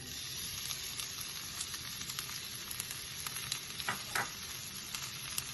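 Shallots frying in ghee with star anise for ghee rice, a dense, steady sizzle close to the pan with small crackles and light stirring scrapes, no voices.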